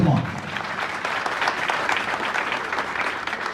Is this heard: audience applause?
yes